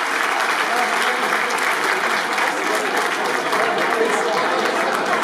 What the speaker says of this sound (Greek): Εγώ θα ξαναζητήσω ένα χειροκρότημα για τα παιδιά του χορευτικού.